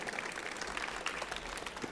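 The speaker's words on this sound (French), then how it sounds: "avec de magnifiques assiettes que je vous demanderai d'applaudir, mesdames et messieurs." Faint, soft applause rises from an audience at a cooking demonstration, honouring plated dishes of pike-perch paupiettes with chanterelles, a brief distant patter under room noise.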